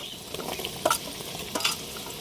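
Chunks of taro are stirred in a pan with spice paste, a soft steady sizzle broken by a few sharp scrapes of a spatula against the pan.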